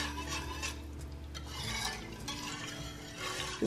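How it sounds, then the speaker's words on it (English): A whisk stirs a mixture briskly in a glass bowl to work out lumps, giving a close, rapid scraping and rubbing with faint clinks against the bowl. "You make sure you whisk it so that there's no lumps in here."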